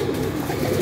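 Pigeons cooing at a pigeon racing club, a soft continuous low murmur of calls close by, filling the whole short moment with no talk.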